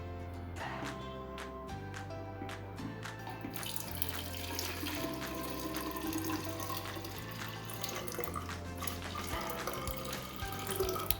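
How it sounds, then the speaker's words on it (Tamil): Water poured into a Solara water bottle, a steady, splashing stream that runs for several seconds, quiet under soft background music with no voices. "ஒரு கால்வாசி ஊற்றிருக்கேன்."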